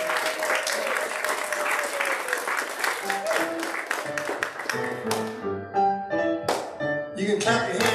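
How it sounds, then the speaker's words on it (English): A crowd claps steadily throughout, with music and singing voices carrying over the applause. "You can clap your hands if you want to"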